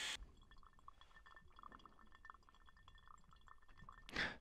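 Hot water trickling from a kettle into a pour-over coffee dripper at a backpacking camp, a faint, steady thin stream with small clinks, ending in a brief louder splash.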